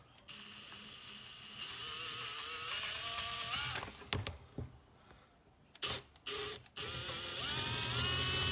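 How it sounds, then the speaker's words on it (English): A power drill fitted with an 8mm bit runs in a steady high whine for several seconds, then stops and starts in short bursts before spinning up again, close and alone. "And then what we want is 8mm drill bit, and what I like to do is just start it off"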